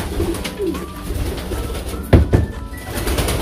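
Pigeons cooing close by in a soft, throaty, repeated murmur, with a sharper flutter or knock midway and steady background noise.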